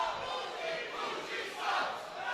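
A wrestling crowd in an arena cheers and yells, split in support between two wrestlers, a continuous roaring mass of voices that swells and dips without letting up.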